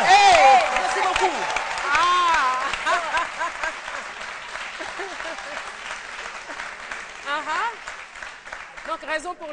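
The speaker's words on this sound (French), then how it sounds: "Ça demande l'acclamation." Studio audience applause on a television midday show set, a dense burst of clapping that swells at the start and then thins, with voices talking and exclaiming over it throughout.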